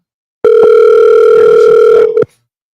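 A loud, steady telephone dial tone sounds before a phone call, holding for nearly two seconds with a small click at its start and a clipped stop at the end.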